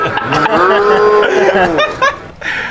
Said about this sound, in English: think there's some cows in the audience